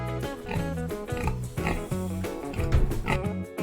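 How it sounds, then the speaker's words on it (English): A farm pig grunts and oinks in a quick series of short, nasal snorts, close and fairly loud, with a few squealing rises between the low grunts. "Here comes Pig."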